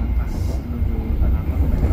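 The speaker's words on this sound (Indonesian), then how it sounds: "Kapan lagi kita naik kereta ekonomi PSO melintas Palmera?" PSO economy train running past Palmerah, a steady low rumble of rail travel heard from inside, continuous and moderately loud with faint talk beneath.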